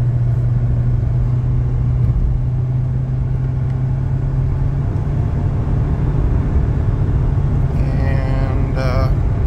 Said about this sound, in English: I'm gonna drive down the desert end arterial here